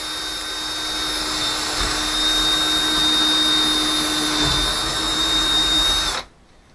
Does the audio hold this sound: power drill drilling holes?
yes